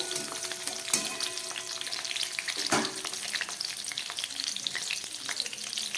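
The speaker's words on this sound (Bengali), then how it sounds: "এইবারে এই তেলের মধ্যে আমি দিয়ে দিচ্ছি কেটে রাখা ক্যাপসিকাম" Chopped capsicum hits hot oil on a low flame for chilli paneer, making a close, crackling sizzle with a few sharp pops and stirring clatters along the way.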